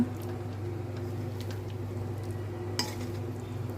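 Tomato onion rice being stirred slowly in a pan with cooking oil, giving soft scraping and clinking of a spoon against the pan over a steady low hum, with one brighter clink near the end.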